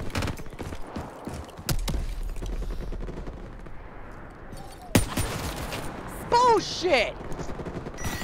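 Gunfire in Call of Duty Black Ops 3 multiplayer: rapid automatic bursts and sharp single shots crackle throughout, with a loud blast near five seconds, while a player shouts briefly over the shooting.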